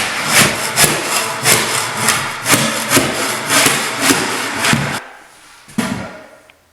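Rhythmic scraping strokes, about a dozen in steady succession, as old carpet staples are pried and dragged across a floor, then a pause and one final scrape.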